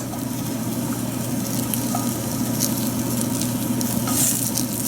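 Fennel wedges, cut with roots intact, char in a hot pan with a steady, close sizzle and soft crackling patter that holds evenly throughout.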